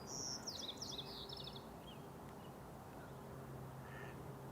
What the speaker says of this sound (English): these geese, goslings.